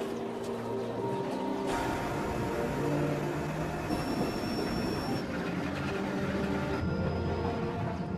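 A tramway car near the Santa Rosa and San Jacinto mountains rides along its track with a continuous rumble, rattling and occasional high wheel squeals, moderately close and without talk.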